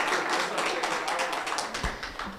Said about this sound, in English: Round of applause from the youth.